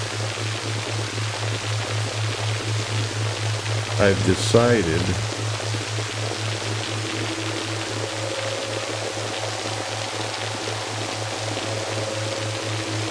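A steady, low, pulsing binaural beating tone drones under a soft, rain-like hiss for relaxation and sleep, with someone speaking briefly partway through and a faint higher tone entering later.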